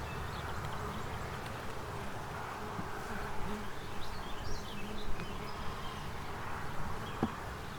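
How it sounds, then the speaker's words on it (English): Honey bees hum in a dense, continuous drone around open hive frames, close and steady, with a few lighter buzzing swells and faint background noise and no voices. "Try not to squish a bunch of bees."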